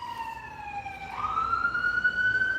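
A wailing siren rises and sweeps steadily upward, moderately distant, over a low rumble of road traffic.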